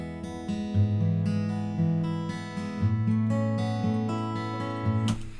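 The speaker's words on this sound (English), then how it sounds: "I'm using this Martin guitar from Ample Sound here" A virtual Martin acoustic guitar from Ample Sound plays a strummed and picked chord passage in a DAW mix, clear sustained tones with steady rhythmic changes, alone and up front.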